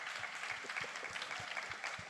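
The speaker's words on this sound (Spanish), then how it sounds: "den un aplauso" Applause rises from a church congregation during a sermon, many hands clapping in a steady, fairly quiet patter heard from a distance, with no voices over it.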